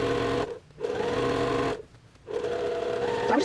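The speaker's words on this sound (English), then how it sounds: "So I'm just going to continue sewing down the other side of my squares here." A sewing machine stitches quilt squares in chain piecing, running in steady whirring bursts separated by two short pauses, close and alone.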